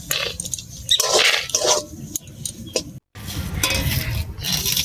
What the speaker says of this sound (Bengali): দিয়ে আমি আবার এটা নাড়বো ভালো করে